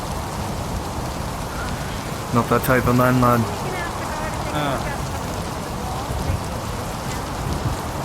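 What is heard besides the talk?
rain falling, from a video game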